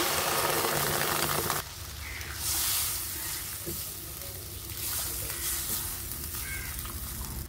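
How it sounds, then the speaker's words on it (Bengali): Rohu fish curry with papaya hisses steadily in a pan, then the sizzle drops sharply and settles into a softer, bubbling simmer as water is poured in. The sound stays close and fairly loud throughout, with no talking. "আমি এখন পানি দিয়ে আর এখানে পরিমাণ মতো পানি দিয়ে দিচ্ছি"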